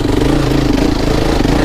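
An adventure motorcycle's engine revs steadily while climbing a hill off-road, a loud, close, continuous mid-pitched drone with faint clatter and no speech.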